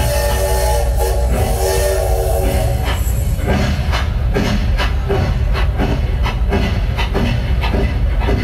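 Train sound effect played on stage at a school annual function play, a loud continuous rumble with a rhythmic clatter of repeated pulses through the second half.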